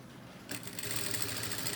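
Sewing machine running steadily while stitching a pleat on a long gown, starting abruptly after a brief quiet moment and continuing as a fast, even mechanical whir, close and moderately loud.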